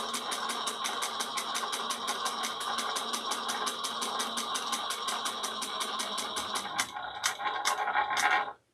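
A sewing machine runs in a fast, even rhythm of stitches while stitching a two-tone strap with contrasting thread, steady and close for most of the stretch, then slowing into a few separate stitches before it stops.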